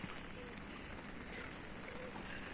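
Steady rain falls on a cool, windless day at about 13 degrees Celsius, a broad continuous hiss with faint patter, close and even throughout with no talking.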